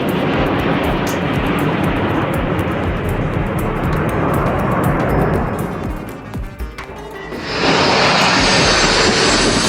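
Patrouille Suisse F-5 Tiger jets roar past at an air show, a loud sustained rush of jet engine noise that dips briefly, then swells again as another pass arrives.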